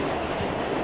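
A New York subway train passing near the World Trade Center in Manhattan, a dense, loud rushing roar of wheels and cars rolling by close at hand.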